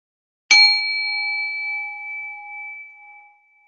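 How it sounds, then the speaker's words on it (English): A single meditation bell is struck once, a bright clear ring that sustains with steady tones and slowly fades over several seconds in otherwise silent surroundings. "as I ring the bell"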